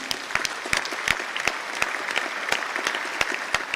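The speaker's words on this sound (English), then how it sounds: "round of applause." Steady, dense applause fills a diplomatic reception hall for diplomats accredited to Zimbabwe, with many hands clapping continuously and evenly, loud and close, without a break.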